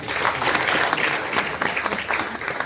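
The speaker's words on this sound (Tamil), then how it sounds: "நல்ல கைத்தட்டலாம்." Audience at a Thiruvalluvar Day award ceremony claps loudly and briskly, a dense burst of applause with individual claps standing out near the front.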